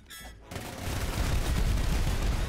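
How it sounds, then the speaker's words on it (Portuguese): Gunfire in the video game Rounds, a dense, continuous burst of shots after a brief high-pitched electronic tone, loud and sustained throughout. "Olha o tiro agora."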